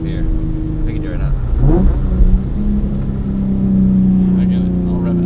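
A Nissan 350Z engine revs through its aftermarket exhaust, heard from inside the car as a deep droning rumble that climbs and falls, with a person talking over it.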